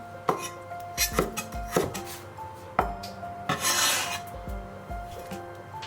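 Scallion and ginger are knife-cut into fine shreds on a board, a series of uneven taps and scraping strokes, close and fairly quiet, with pauses between bursts.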